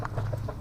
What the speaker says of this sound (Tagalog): yung manok kong panabong, manok na pula